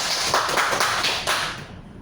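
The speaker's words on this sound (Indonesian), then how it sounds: "Tepuk tangan dulu untuk kelompok 3" Classroom applause for a student group, a dense burst of many hands clapping at close range that swells, then trails off over about two seconds, with no talking over it.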